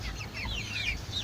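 Large 45-day meat chickens raised for a barangay fiesta cluck and chirp repeatedly, with several birds calling close by over a low rumbling background.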